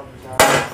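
A hammer strikes an iron part on a motorcycle clutch housing once, a single sharp metallic knock close by after a brief quiet lead-in.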